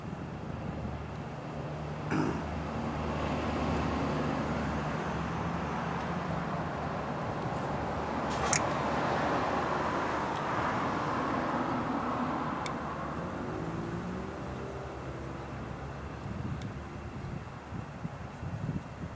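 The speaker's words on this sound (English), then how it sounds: "Sorry about the noise, I'm right next to one of the city streets here I live on." Steady traffic roar from a nearby city street fills the air as a continuous broadband rumble, with passing vehicles swelling and fading and a few faint clanks, no speech.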